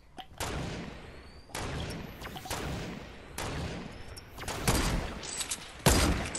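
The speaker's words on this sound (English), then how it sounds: "Ow, I just got shot again!" Repeated bursts of gunfire in Fortnite sniper-only gameplay, sharp loud cracks with ringing tails arriving every second or so, the last shot punchier and closer.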